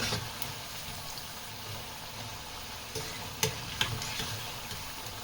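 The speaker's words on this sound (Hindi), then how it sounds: "अब ये जो है पकोड़े एक साइड से फ्राई हो गए, तो मैं इसका साइड चेंज कर रही हूँ।" Sindhi pakoras fry in hot oil while being turned over: a constant close sizzle and bubbling with a few sharp clicks of the utensil flipping them, and no voices.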